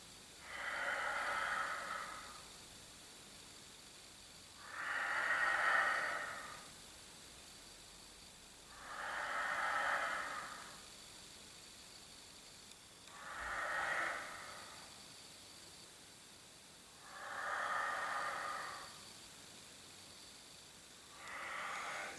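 Slow, audible breaths in and out during a Pilates exercise come as six evenly spaced, soft airy swells, each lasting a couple of seconds, faint and close against quiet background hiss.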